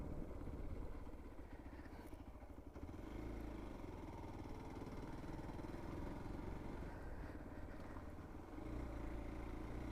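Motorcycle carrying two riders toward Salia Dam, its engine a low steady rumble heard from on board with faint wind rush, the pitch rising slightly near the end.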